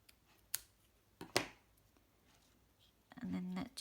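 Scissors cutting craft pieces down to length, a few sharp snipping clicks spaced apart, fairly faint and close, followed by a short buzzing hum.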